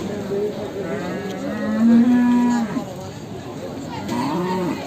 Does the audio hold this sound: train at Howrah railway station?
no